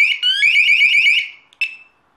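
A 105 dB home security alarm shrieks in a rapid warbling electronic tone for about a second, cuts off, then gives one short final chirp before silence.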